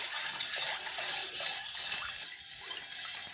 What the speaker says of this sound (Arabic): بندوب الملح لحد ما يدوب خالص